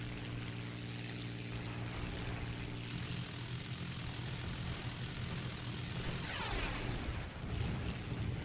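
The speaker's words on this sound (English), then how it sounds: "like this little CR-42, little Italian biplane" Engine drone of a CR-42 Italian biplane in War Thunder, a loud steady propeller roar with a shifting pitch as the aircraft maneuvers, constant throughout with no talking.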